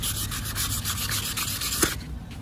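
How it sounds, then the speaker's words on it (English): Wet sandpaper rubs back and forth over the clear coat on an aluminum wheel, a close, steady scratchy scrubbing with a quick sharp scrape near the end. "You literally sand down that piece of clear"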